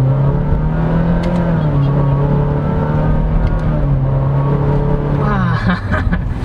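A 2022 Honda City RS sedan accelerating, its engine giving a steady, close, continuous drone with a faint rising rumble that stays even throughout and grows slightly rougher near the end.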